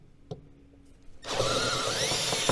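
A power drill with a 17/64 bit bores a hole in the body of a 2019 Ski-Doo Expedition snowmobile for an axe-mount rivet nut. A couple of faint knocks come first, then a loud, steady, close whirring grind.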